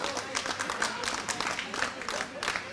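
A crowd applauds and cheers at a cricket match, with steady clapping throughout and a commentator talking over it.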